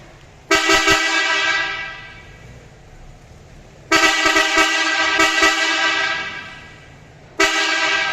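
Three blasts from repaired car horns sounding on a workbench after coil and contact-point repair: loud, bright honks with sharp onsets, each held for a few seconds then fading, spaced apart with quiet in between.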